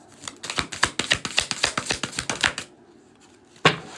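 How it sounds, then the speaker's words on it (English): A deck of playing cards being shuffled up close, a quick run of about fifteen crisp riffling snaps, followed by a short pause and one final sharp card tap. "Shuffling here."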